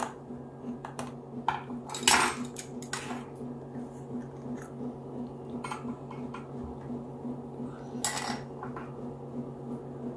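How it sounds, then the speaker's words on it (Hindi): Metal spoon scraping and clinking in a bowl while dry waffle ingredients are mixed, with baking powder among them; steady light tapping and rattling, a few sharper clinks near the start and near the end, no talk. "अब ये इंग्रेडिएंट को हम अच्छे से मिक्स कर लेते हैं"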